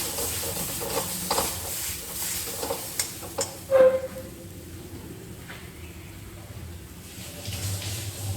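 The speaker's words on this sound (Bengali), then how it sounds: "আমি কষিয়ে নেব।" Masoor dal and potol (pointed gourd) being stirred and sautéed in a pan, with soft sizzling and intermittent scraping stir strokes, a louder clatter near the middle, then a quieter steady fry.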